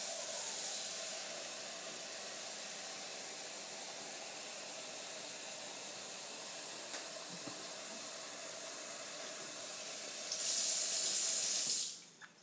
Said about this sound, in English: I'm going to fill up the cup.